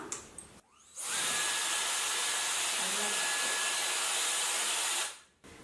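A hair dryer with three fan speeds is switched on and roars steadily at close range for about four seconds before cutting off, with no talk over it.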